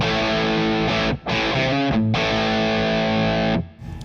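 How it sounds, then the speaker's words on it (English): A loud electric guitar played through a distortion pedal, sustained chords ringing out with two brief pauses between them. "So that's just the distortion pedal."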